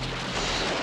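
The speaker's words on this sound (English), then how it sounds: "Explosions!" A single loud explosive blast from a cartoon, a dense, rumbling burst of noise that fills the whole short moment.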